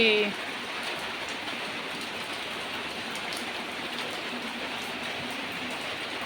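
Rain falling on a wet day at a home in Tripura, a steady, even hiss of drops pattering on surfaces, continuous and fairly close, after a brief sound at the very start.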